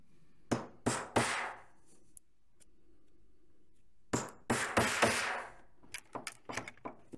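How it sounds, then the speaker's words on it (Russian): Punch tool driven through parachute fabric to make two holes, heard as a series of sharp, close impacts in two clusters with brief gaps between them, followed by lighter tapping knocks. "И здесь пробьем два отверстия."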